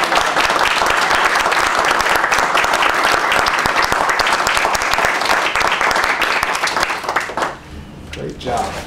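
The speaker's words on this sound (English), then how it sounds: "Round of applause." Sustained, loud round of applause from a committee meeting audience honoring a departing colleague named Victor, dense clapping filling most of the stretch before thinning and fading near the end.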